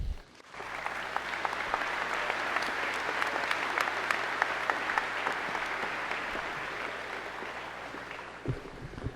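Sustained applause from a large audience at a Merrill High School graduation ceremony welcomes a guest to the stage, loud dense clapping that holds steady for several seconds after a brief pause at the start.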